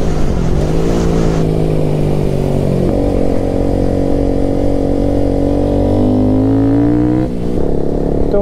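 A motorcycle races at high speed along a highway, its engine droning loud and close with steady rising pitch as it accelerates, wind roar mixed in, no voices.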